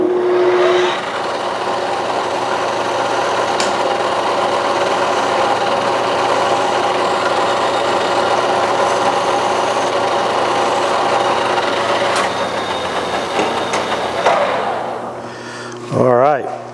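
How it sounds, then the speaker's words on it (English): A hand file rasps steadily along the edges of a threaded hydraulic button in a machine shop, continuous loud scraping over a machine hum that stops near the end with a brief clatter. "Get our file and break those edges."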